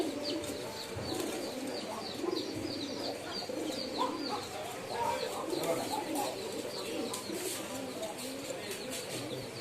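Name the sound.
pigeon cooing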